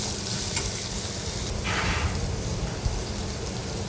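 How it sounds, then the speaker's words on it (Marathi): Tomatoes added to sautéed onions in a pan for a Marathi potato bhaji, giving a steady, soft sizzle and crackle with a brief stir in the middle, no voices. "आता त्याच्यामध्ये टोमॅटो टाकायचे आहेत"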